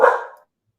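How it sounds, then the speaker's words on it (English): A dog at home lets out one loud, close bark that quickly fades into silence. "My dog's barking."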